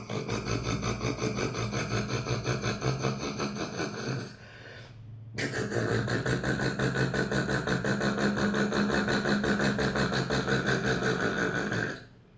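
A voice imitates a farm tractor engine, a steady, buzzing mouth-made chug with a rapid pulsing rattle, broken by a brief pause for breath before resuming at full strength and then cutting off.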